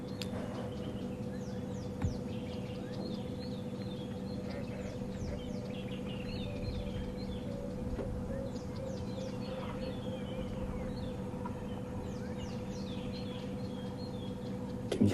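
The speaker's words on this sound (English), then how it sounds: "can hear the little bird alarm calls all around that have spotted her." Faint, high alarm chirps and squeaky calls from small birds reacting to a leopard are scattered throughout over a steady low hum, distant and quiet, with no talking.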